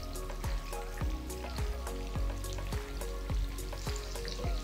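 Pieces of tofu deep-frying in hot oil for tahu Magelang. A steady, dense sizzle with crackles and pops runs throughout, and there is no talk.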